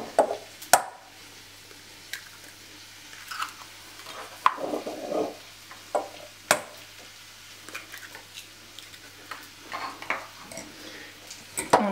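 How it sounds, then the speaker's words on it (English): A small whisk beats three eggs in a bowl, with uneven taps and scrapes against the bowl as liquid egg swishes, close and intermittent with no talk. "I'm going to use this little whisker, which is really handy for just beating up small amounts of liquid egg"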